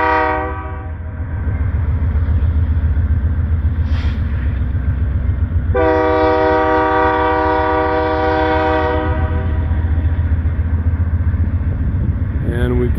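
Santa Fe, Union Pacific and Norfolk Southern freight locomotives roll past close by with a steady rumble of wagons, while a loud horn sounds in a long blast and someone talks over it.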